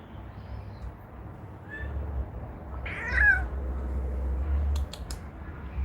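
A cat lets out a brief, faint meow and then a louder, drawn-out one over a low, steady background rumble, with a few sharp clicks near the end.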